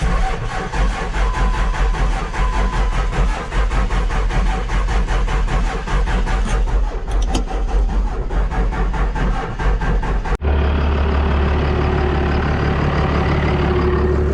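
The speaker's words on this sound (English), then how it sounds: "This engine's a lot louder with the timing at 26 degrees." A loud truck engine with ignition timing at 26 degrees idles with a rough, rhythmic chugging lope, then its tone abruptly shifts to a smoother, steadier rumble near the end.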